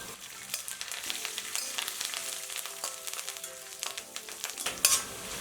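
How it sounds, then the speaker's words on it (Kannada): Garlic, curry leaves and peanuts crackle and spit in hot oil for spicy street-style churumuri, with quick metallic scrapes of stirring and a clink near the end, up close and without talk. "ಬೆಳ್ಳುಳ್ಳಿ ನೀವು ಚೆನ್ನಾಗಿ ಫ್ರೈ ಮಾಡ್ಕೋಬೇಕು ಕೆಂಪಗೆ"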